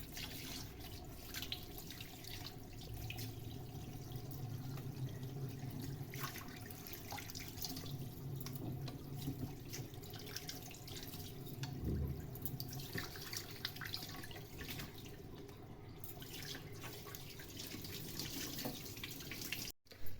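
Tap water runs steadily into a sink as pieces of fish are rinsed for pakoras, a continuous splashing wash heard close by with no talk, ending abruptly.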